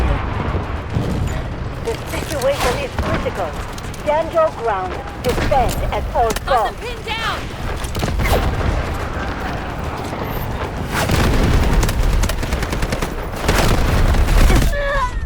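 Bursts of SMG-45 submachine gun fire in the shooter game Delta Force, repeated volleys and booming shots spread across the clip, fairly loud, with game sounds and a voice talking over parts of it.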